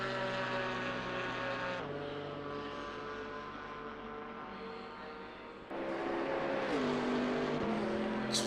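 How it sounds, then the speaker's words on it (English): A Chevrolet Camaro GT race car in Assetto Corsa Competizione roars past with a loud, tonal engine note, shifting gears with abrupt pitch drops, then a swell as another car closes in. "See here the Camaro thundering past"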